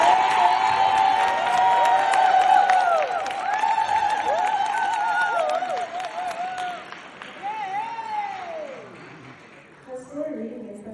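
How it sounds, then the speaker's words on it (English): Audience applause and cheering at a school book handover for a student's achievement, with clapping, whoops and children's shouts swelling loudly and then fading toward the end. "I really think she deserves a big round of applause"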